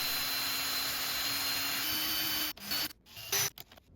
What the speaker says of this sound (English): chuck it up into a drill, and then I'll polish it just like this